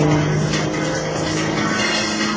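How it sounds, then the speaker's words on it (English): An Extra 300 aerobatic airplane rolls through a manoeuvre at an airshow, its propeller engine giving a steady, loud, buzzing drone with a strong tonal hum that holds throughout without talk. "Watch her as she comes up across the top and establishes herself on the 45 down line, but all the time rolling that airplane"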